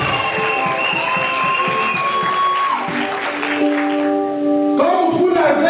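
A church congregation applauds during a wedding blessing, with a steady wash of clapping mixed with sustained singing or instrumental tones.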